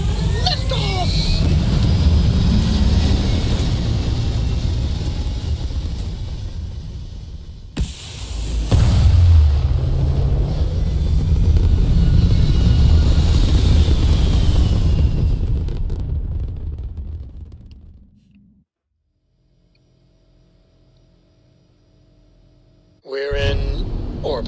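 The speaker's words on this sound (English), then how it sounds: "And we have liftoff!" A spaceship lifts off in a space video game, a loud, dense rumbling roar that swells and holds for several seconds, breaks off, resumes, then fades to near silence before a brief burst returns.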